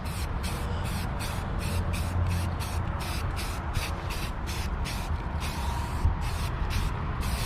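A spray gun lays 2K clear coat onto a Camaro rear diffuser, making a steady hissing spray broken into rapid, evenly repeated bursts, close and continuous with no talking.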